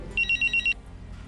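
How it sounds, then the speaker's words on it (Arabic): An incoming call makes a telephone ring with a quick electronic trill of five short even pulses, moderately loud over a low steady room background, with no speech. "أنا جاني اتصال"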